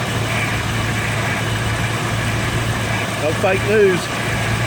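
A carbureted car engine idles steadily after a cold start, producing a loud, constant low rumble while someone talks over it.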